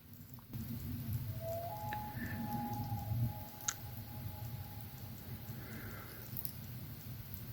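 A loon on a lake at Moose Cove gives a long, wavering wail close by. The call rises and sustains over a steady low rumble of wind and water, with a few faint clicks nearby.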